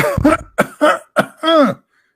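A run of four or five harsh coughs, close and loud, with short gaps between them and the last one drawn out.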